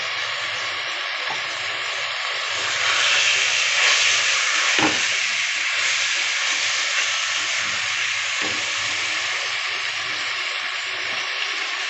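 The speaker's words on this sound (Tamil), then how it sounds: "சிக்கனை நல்லா கலந்து விட்டுருங்க. அப்படியே கட் பண்ணி வச்சுருக்கிற தேங்காய் அதையும் சேர்த்துக்கலாம்." Chicken stir-fried with cut coconut pieces for Pallipalayam chicken fry, a loud continuous sizzle and hiss close by with occasional stirring scrapes, no voices.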